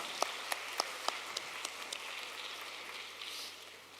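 Audience at a world conference on technical and vocational education in a Malaysian university hall applauding, a few sharp claps at first swelling into soft, distant, scattered clapping that fades toward the end.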